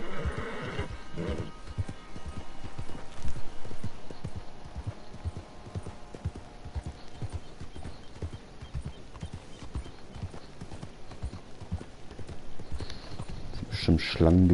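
Rhythmic horse hoofbeats clip-clopping steadily in the western video game Red Dead Redemption 2, with a whinny, running under someone talking throughout.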